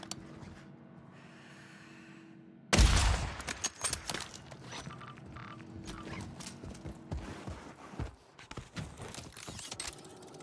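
Sniper rifle gunfire in a video game: a loud sharp crack bursts out after a quiet lead-in, followed by a busy spread of game sounds and thuds.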